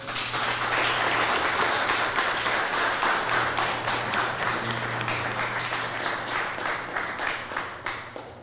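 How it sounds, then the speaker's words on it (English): An audience at a startup day event in Mexico City applauds with dense, sustained clapping that holds loud and steady, then gradually thins toward the end. "let's give them one more round of applause."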